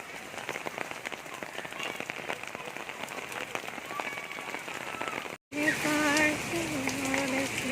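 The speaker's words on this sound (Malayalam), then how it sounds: "സൂപ്പർ മഴയല്ലേ." The year's first rain falls in Pune, a dense pattering on surfaces all around, with voices in the background.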